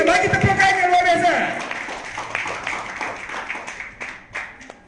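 An audience claps for a presenter at a business presentation in Johor, a burst of clapping that starts strong and tapers off into scattered claps. A voice speaks over the opening.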